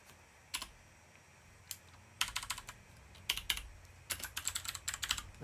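Bursts of computer keyboard typing, close and clear, coming in quick clustered runs of keystrokes separated by short pauses, with no talking.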